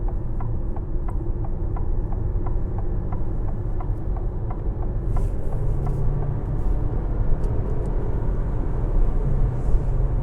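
A 2023 Dodge Hornet GT Plus engine pulling hard on a test drive, heard as a steady, heavy cabin drone with a faint, rapid ticking in the first half.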